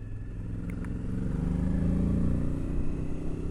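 A Suzuki DL1000 V-Strom, a large torquey V-twin motorcycle, rumbles through a corner, a low steady engine drone that swells slightly midway and holds, heard from onboard.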